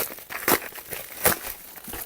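Plastic packaging bags rustle and crinkle while an AliExpress parcel is being unpacked, with two sharper crackling bursts over a soft, continuous handling noise, close and fairly quiet.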